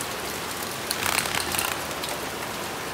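A heavy rain downpour gives a steady, close, even hiss with slightly louder patter in the middle and no talking.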